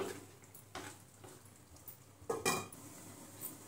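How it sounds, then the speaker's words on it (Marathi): A spoon stirs vegetable Kolhapuri curry with added hot water in a cooking pot, giving quiet scraping swishes and a few light metallic clinks against the pot, close and soft. "सर्व मिक्स करूया आणि 10 मिनिटे आपण हे चांगलं शिजून देऊ"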